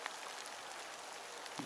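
Steady rain falling outdoors on a fishing trip, a constant soft wash of hiss with a few faint drop taps, no talking.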